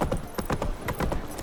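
Horse hooves clip-clop on the ground in The Witcher 3 video game, a quick, even trotting rhythm of sharp close thuds throughout, with no talking.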